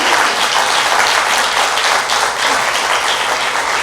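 A church congregation bursts into loud, sustained applause, a dense wash of clapping that holds steady from start to finish with no voices standing out.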